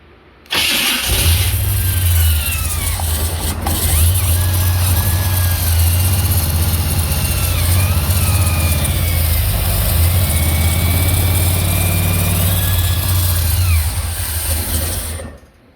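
An engine cranks and fires up, then runs steadily with a strong low rumble while the throttle is opened and held up, loud and close, settling near the end before shutting off; it is a machine with power and starting issues.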